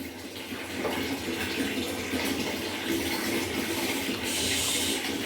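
Water running and splashing as a small child is bathed with soap at home, a continuous close wash of water noise that swells slightly near the end, with no clear talk.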